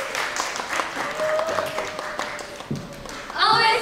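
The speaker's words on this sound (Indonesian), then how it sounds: "Tepuk tangan sekali lagi dong buat FIRST semuanya!" Audience applause at a press conference: steady, dense clapping from a crowd fills the clip, with voices mixed in and a louder, brighter swell of cheering near the end.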